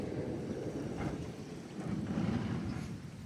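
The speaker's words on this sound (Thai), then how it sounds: "ลมกึกเนาะ ลม" Steady wind blows in gusts outdoors at home, a continuous low rumbling roar buffeting the microphone, fairly quiet overall and swelling slightly midway, with no voices.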